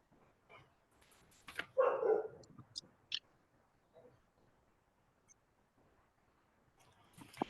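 Puppies bark in a short burst near the two-second mark, followed by a couple of sharp yips, then only faint sounds until a brief rise at the end.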